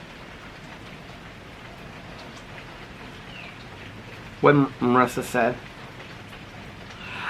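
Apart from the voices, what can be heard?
heavy summer thunderstorm rain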